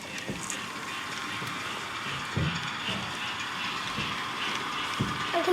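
A model railway train runs along its track at an exhibition, with faint clicking and rumbling from the wheels under a steady hall murmur and a few soft knocks.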